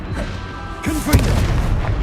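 The Confringo blasting spell in Hogwarts Legacy detonates with a deep booming explosion midway, a loud low thud followed by rumbling debris and a short burst of magical crackle.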